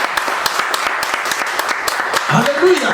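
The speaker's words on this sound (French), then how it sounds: "Acclamons pour notre Dieu." Church congregation applauding during a sermon, a steady rhythmic patter of many hands clapping at moderate distance, with a voice rising over the clapping near the end.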